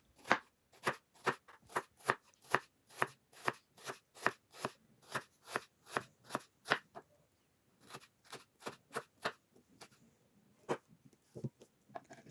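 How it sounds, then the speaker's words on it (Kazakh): A knife slices an onion thinly on a cutting board in a fast, even run of crisp cuts, about three per second. After a short pause, a few more scattered cuts follow. Close and clear, with no talking. "пиязымызды жұқа етіп турап шығатын боламыз"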